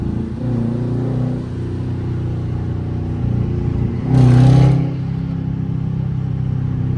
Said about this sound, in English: This exhaust sounds crazy, bro.